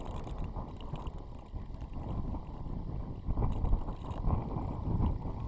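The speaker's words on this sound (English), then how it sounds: "it's very windy" Strong wind buffeting a microphone at the Port of Southampton, a dense low roar with gusty swells, steady throughout with no voices.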